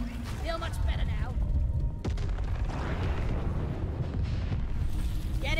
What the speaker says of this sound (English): I can only guess this is supposed to be the meteor entering the planet before it even enters your cave